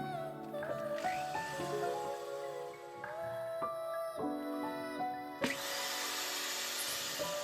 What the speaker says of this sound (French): Je perce mes 2 derniers pré-trous et diamètre définitif pour insérer les 2 dernières chevilles